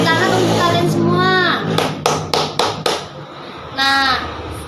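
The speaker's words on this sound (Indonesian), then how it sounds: "Tepuk tangan untuk kalian semua." A classroom of primary-school children claps hands in a short run of distinct, fairly close claps, framed by a teacher's voice talking before and after.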